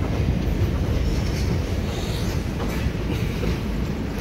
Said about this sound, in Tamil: வண்டி கரெக்ட் டைமுக்கு வந்துட்டுருக்கு